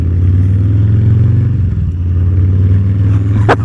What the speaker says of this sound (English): It's so weird how exhaust sound can change a rider's behavior.